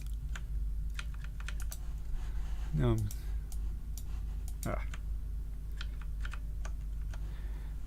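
Keystrokes on a computer keyboard in a lecture setting click in scattered bursts over a steady hum, with a brief spoken word and a few sliding tones in the middle.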